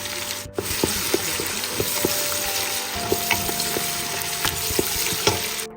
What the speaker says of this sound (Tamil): நான் இப்போ வெங்காயத்தை இதில் சேர்க்குறேன்